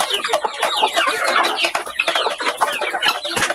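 Chickens and chicks on a rural farm clucking and chattering busily together, close and fairly loud, several birds overlapping without pause.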